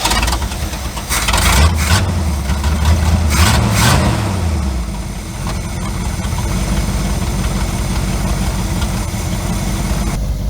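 A 1972 Chevrolet C30 truck engine, just after carburetor repair, idles loudly and close by. It rises in a brief rev near the start, then settles back to a steady, even rumble.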